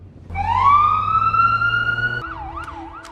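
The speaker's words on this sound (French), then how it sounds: "Dis à Boden d'allumer la sirène." A fire engine's siren winds up loud and close, holding a long rising wail before switching into a fast, warbling yelp over a low engine rumble.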